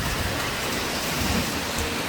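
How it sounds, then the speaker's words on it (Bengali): Steady rain pours down hard during a hailstorm, a dense unbroken hiss with low rumbling, loud and close, with no voices. "বাইরে এখন বৃষ্টিটা থেমেছে, তো পড়ছে ঝিরঝির করে পড়ছে"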